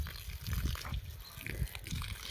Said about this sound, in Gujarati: હવે આપણે પાણી છાંટીએ